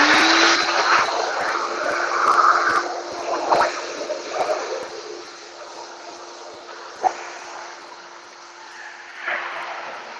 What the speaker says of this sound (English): It's gonna get loud because I'm gonna do some vacuuming.